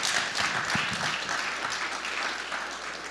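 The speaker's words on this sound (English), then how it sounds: "Let's give them all a round of applause again," An audience claps at a tech talk, with steady, moderately loud applause that holds evenly throughout.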